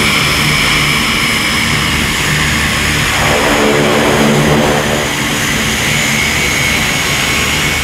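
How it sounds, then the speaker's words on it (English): Large U.S. Coast Guard planes flying over an airport in formation make a loud, steady engine roar that swells slightly in the middle and keeps going throughout. "They've got some big planes here that they're going to be doing a formation in a little bit"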